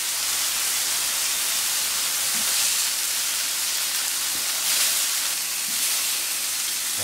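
Beef steaks sizzling in a hot pan, a steady broad hiss with no pauses, fairly loud and close, with no voices.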